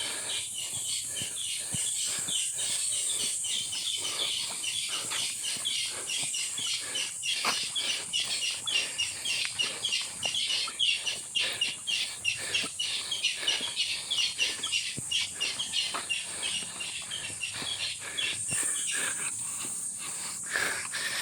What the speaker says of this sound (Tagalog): Ganda ng huni ng ibon, di ba?